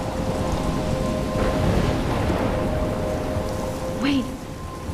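Heavy rain pours steadily in a thunderstorm near a lighthouse in Life is Strange, with low rolling thunder rumbling beneath the dense, loud hiss of rainfall.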